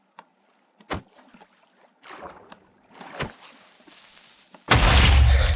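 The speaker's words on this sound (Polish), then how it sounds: "Wybuch mi tu." A few scattered clicks and thumps, then a sudden loud, noisy Minecraft creeper explosion that roars on for the last second, close and heavy.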